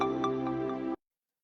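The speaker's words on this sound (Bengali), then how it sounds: "অফিসের ফোন।" Office phone ringing, a single loud electronic ring with a sustained buzzing tone that pulses faintly and then stops abruptly, followed by silence.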